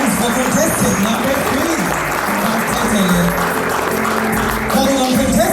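Applause for a contestant at a Samoan Tausala and Manaia pageant, loud continuous clapping blended with crowd noise and voices talking over it throughout.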